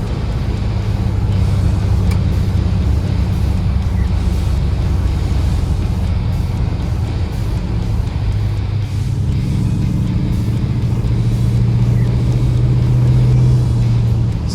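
A 1966 Buick Wildcat with a Super Turbine 400 automatic transmission accelerates, its engine giving a steady, loud low rumble that rises slightly in the later seconds, heard from inside the car without talk.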